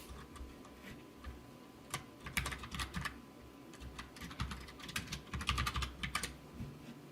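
Rapid, uneven typing on a computer keyboard while saving a sensor evaluation log, with clusters of quick clicks and short pauses at a moderate, close level, no voices.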